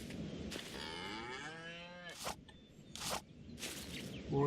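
Cow mooing in the survival video game Hold Your Own: a long, drawn-out low moo with rich harmonics rising then falling, followed by brief clicks and rustles, with game ambience underneath.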